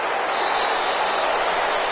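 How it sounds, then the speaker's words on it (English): Stadium crowd applauding for the defense in an American football video game, a dense, loud, continuous wash of clapping and cheering filling the whole stretch. "How about some applause for the defense there?"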